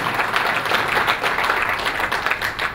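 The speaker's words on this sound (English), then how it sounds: "full marks to them and a loud applaud of appreciation" Audience applause at a magazine's sixth anniversary event, dense steady clapping from many hands, loud and close, continuing without pause.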